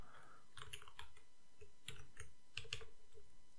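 Typing on a computer keyboard, steady clusters of soft key clicks in short bursts, close and fairly quiet with no voice.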